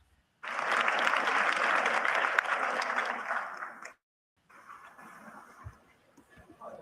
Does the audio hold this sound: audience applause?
yes